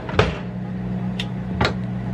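Air fryer tray with a frozen ribeye pushed shut, a couple of short clunks and a slide against a steady low appliance hum, close and fairly quiet.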